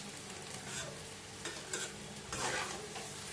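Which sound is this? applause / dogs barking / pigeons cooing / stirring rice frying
stirring rice frying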